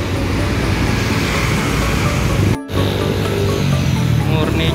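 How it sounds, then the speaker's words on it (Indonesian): A Rengganis bus bound for Kuningan and Cirebon pulls away from Lembang, its engine and road noise forming a loud, steady broadband rumble that briefly drops out near the middle before resuming. "ini ada bus Rengganis dengan tujuan Kuningan Cirebon yang berangkat start dari Lembang juga ini"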